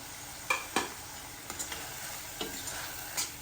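Masala and chopped tomato sauté in a pan, with a quiet, steady sizzle broken by several sharp spoon-against-pan clicks and stirring scrapes.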